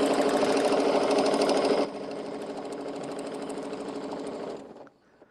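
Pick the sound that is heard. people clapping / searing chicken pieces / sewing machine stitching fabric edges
sewing machine stitching fabric edges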